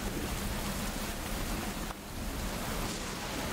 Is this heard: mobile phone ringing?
no